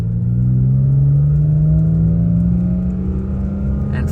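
A car engine held in first gear revs steadily upward, its loud droning whir climbing in pitch over several seconds, close and without voices.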